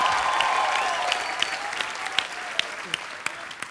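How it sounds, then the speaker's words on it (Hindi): Studio audience on a Hindi comedy talk show bursts into loud, steady applause that fades slightly over a few seconds, with occasional sharper individual claps standing out. "एक बार जोरदार तालियां हो जाए नूरा सिस्टर्स के लिए"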